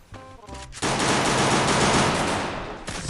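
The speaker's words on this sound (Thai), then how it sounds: "อัตราการยิงแล้วก็แรงด้วยนะครับ" Rapid automatic gunfire from an Evo gun in the Free Fire video game, a loud continuous burst of shots that starts abruptly after a brief lead-in and runs steadily to the end without talk.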